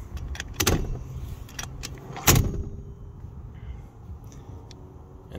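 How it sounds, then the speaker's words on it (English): The seat is folded in a 1997 Honda Odyssey van fitted with a pop top: two sharp, close mechanical clunks of seat latches and hinges, with lighter clicks and rustling around them. "what I like to do for access is I like to fold the seat"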